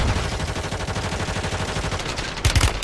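Sustained automatic gunfire in a Call of Duty match rattles in a fast, steady stream of close, loud shots, swelling into a heavier cluster of blasts near the end.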